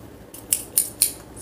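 A pair of green scissors is handled up close, giving three crisp, evenly spaced snips over a quiet background with no talking.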